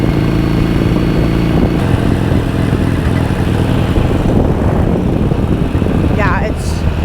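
Harley-Davidson motorcycle engine running steadily with the choke held in, a loud close rumbling idle that continues throughout without speech.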